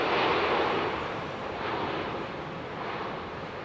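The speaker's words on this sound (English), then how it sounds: "another 767-400. Absolutely no reverser action whatsoever." A Delta Boeing 767-400 lands at Heathrow in fog with no thrust reverser use, giving a steady broadband jet roar mixed with wind rush that holds fairly loud and constant throughout.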